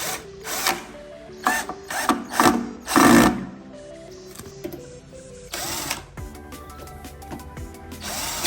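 A power tool whirs in several short bursts of varying length while bolts fasten the mounting plate onto the back of a 48-volt PRIME LS-30248 low-frequency inverter, with softer clicks and handling noises between runs.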